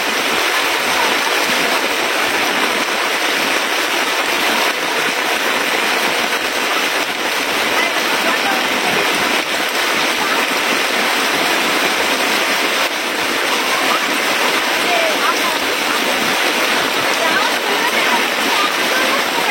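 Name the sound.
heavy rain at night in a village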